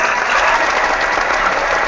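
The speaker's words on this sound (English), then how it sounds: "I think you deserve a round of applause for that" Loud, steady clapping from a group of people, a dense crackle of applause that runs unbroken from start to finish.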